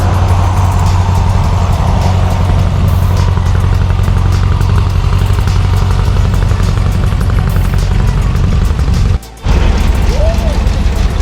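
A bus rolling along the road on a trip through Big Bend, with a loud, constant low engine drone and road rumble, broken by a brief dropout near the end.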